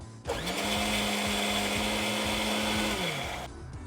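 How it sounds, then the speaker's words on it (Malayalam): A blender whirs steadily for about three seconds as it whips egg white for mayonnaise, starting abruptly, holding a loud even motor drone, then cutting off. "അതിന് ആദ്യം എഗ് വൈറ്റ് ഒന്ന് ബ്ലെൻഡ് ചെയ്തെടുക്കാം"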